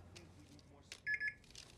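A badge swipe at an office door in Spider-Man 2 gives a short electronic beep pattern, two quick tones after a brief swipe noise, with quiet game ambience around it.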